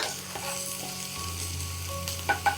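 Sliced onions sautéing in a pan until soft, giving a steady close sizzle with occasional scrapes and two sharp clinks near the end.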